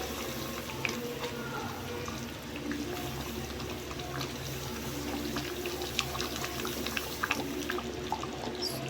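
Water is poured into a pan while cooking rava khichdi, making a continuous splashing, gushing rush with small drips and clinks near the end, fairly close and steady.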